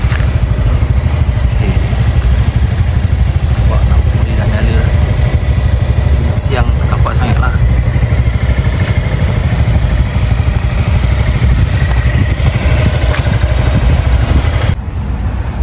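A Honda Forza 250 scooter engine idles steadily at close range, a low continuous rumble running the whole time under a man's speech.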